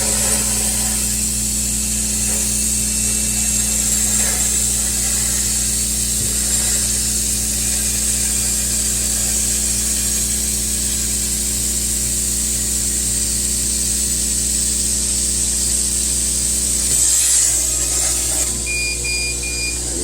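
Engraving machine cutting Rowmark metal-look plastic, a steady whining hiss with a constant low motor hum running throughout at close range, with a brief change near the end and no talk.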